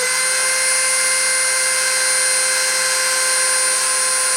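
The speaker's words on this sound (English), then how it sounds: "I'm going to start the spindle and soak it up to this." A grinding machine spindle spins up and runs at a constant speed, giving a loud, continuous high-pitched whine with steady tonal hum and no variation.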